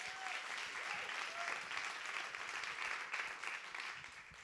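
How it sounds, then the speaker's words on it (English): An audience at an award ceremony applauds steadily for a project presenter, a dense, even wash of clapping that holds for the whole stretch with no break. "Give him an applause"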